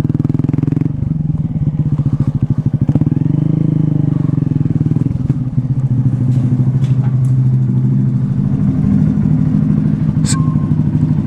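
A Honda Grom motorcycle ridden through an abandoned school, its small engine droning loud and close with a rapid, even pulse that rises and steadies, joined by clattering bumps along the way.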